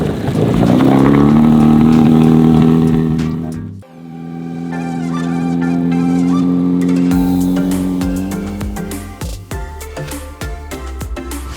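A jet ski engine roars loud and close while riding on water, its pitch holding high, dropping briefly, then surging again before breaking into choppy splashing bursts toward the end, with no talk.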